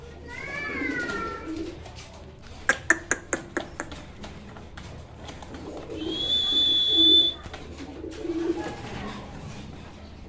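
Fancy and racer pigeons kept for sale in a dealer's loft coo softly, with a burst of sharp wing flaps and a brief whistle-like tone as the startled birds stir. A faint voice murmurs in the background.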